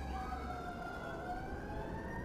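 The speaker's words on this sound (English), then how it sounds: "And an ambulance going by outside." An ambulance siren passes outside, its faint wailing tones sliding slowly over a low steady background hum, distant and muffled.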